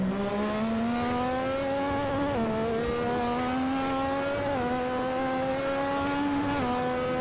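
1986 turbocharged Formula 1 car in Assetto Corsa at Imola, a loud, continuous high engine whine climbing steadily through the revs with sharp dips at each of three upshifts, heard alone and close.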